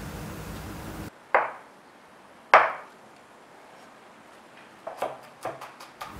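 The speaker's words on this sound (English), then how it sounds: "Minced or finely chopped the garlic and shallots" A few sharp knife chops hit a cutting board as garlic and shallots are minced, then a quick cluster of lighter taps follows, close and clear with quiet gaps between.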